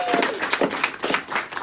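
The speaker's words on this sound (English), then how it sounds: "let's give a round of applause to MBTA for really actually making it." Brief round of applause at a Boston event for the MBTA, with a scattering of hand claps that is moderately loud and somewhat uneven, over a faint background murmur.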